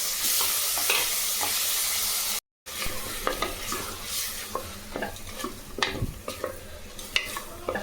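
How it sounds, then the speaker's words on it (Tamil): Tomatoes frying in a pan and being stirred, with a bright sizzle and repeated scraping stir strokes, close and moderately loud, with a brief dropout near the start and no talking. "ஒரு 4 நிமிஷம் தக்காளி நல்லா வேகட்டும்"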